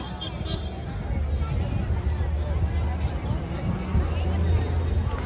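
A dense crowd on a Pune street awaiting the Sant Tukaram Maharaj Palkhi procession, heard as a steady outdoor hubbub of many voices with traffic rumble beneath and a nearby person talking over it.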